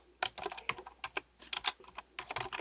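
Fingers type on a computer keyboard in a quick, uneven run of close, crisp key clicks, with short pauses between bursts of keystrokes.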